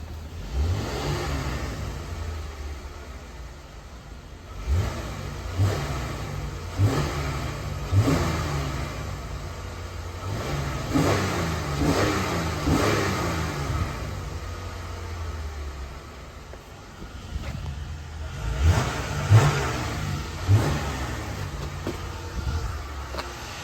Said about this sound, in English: Let me hit on the engine a little bit.